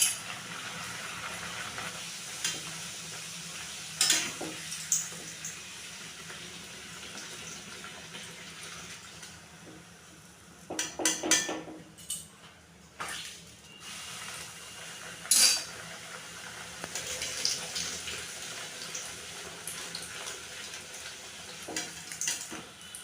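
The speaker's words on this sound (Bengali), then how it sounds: "তেলটা গরম হয়ে গেছে, সবকটা কচুরিকে ভেজে নেব।" North Kolkata-style fish kochuri fry in hot oil with a steady, soft sizzling hiss, broken by occasional clinks and brief bursts of bubbling and utensil handling.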